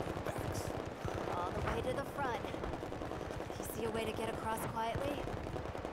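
Gunfire in the Battlefield 4 video game, dense rapid bursts of automatic fire rattling continuously with a busy mix of battle noise throughout.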